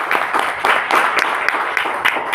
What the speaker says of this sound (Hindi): मैं चाहूंगा कि सर के लिए जोरदार तालियां होनी चाहिए